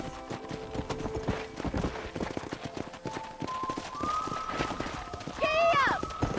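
Horse hooves clip-clop at a steady galloping rhythm in the Red Dead Redemption video game on Xbox 360, close and loud under layered game music and a voice, with a brief whinny near the end.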